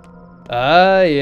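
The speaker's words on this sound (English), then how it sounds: "That's the sound of the earth calling out." Pathologic 2 video game sound of the earth calling out: a low droning hum swells into a loud, sustained, rich harmonic tone that bends slightly in pitch, close and alone.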